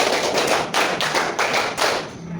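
A class of schoolchildren claps a rhythm pattern together, a run of sharp, loud, near group claps in uneven clusters of beats, with no talking.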